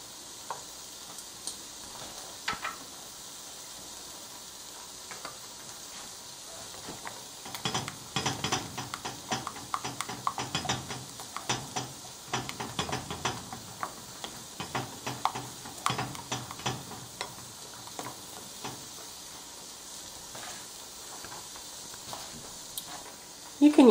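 Melted margarine sizzling in a pan for a buffalo tofu sandwich sauce, a soft low crackle with clusters of sharper pops and stirring scrapes through the middle, ending in a louder knock.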